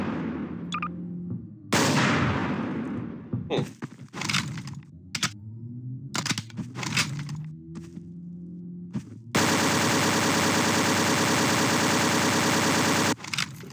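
A Carl Gustav M/45 recoilless rifle fired in Gmod: a handful of sharp, loud blasts at irregular intervals with clicks in between, followed by a long steady roar of noise near the end.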